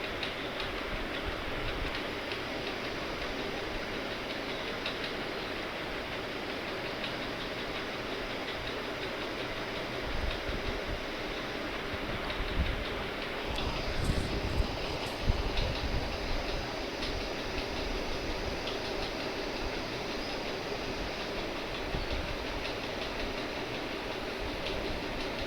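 Onions, green chillies and curry leaves sautéing in a pan for an egg dish, a steady close sizzle and crackle running throughout with no talk.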